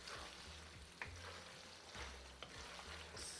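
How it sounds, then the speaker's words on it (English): Chicken jalfrezi being stirred in a pan after garam masala goes in, a soft scraping sizzle with a few sharper spoon knocks against the pan, steady and close with no talking. "And give it a stir."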